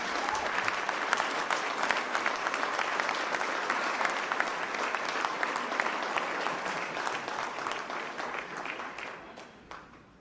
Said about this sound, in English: clap for our Mayor, Cherelle Parker.